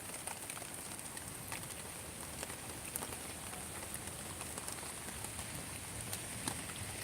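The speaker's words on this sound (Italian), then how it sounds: "Qui a Salerno piove, non in modo esagerato, però piove" Light rain falling steadily in Salerno, Italy, a soft continuous patter with scattered small drop ticks, fairly faint and even throughout, with no voices.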